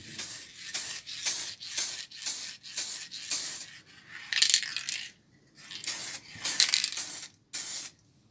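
Short hissing sprays from an aerosol can onto a routed plaque indoors, repeated in a steady rhythm of quick bursts, close by with no voices.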